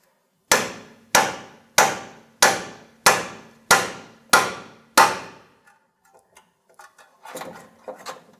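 Eight sharp, evenly spaced hammer blows ring out on a cold chisel wedged into the split of a Jeep Compass steering knuckle, close and loud, followed by faint metallic clinks and handling noise.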